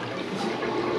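A toilet flushing in a bus conversion unit, a brief steady rush of water that swells slightly, heard alone.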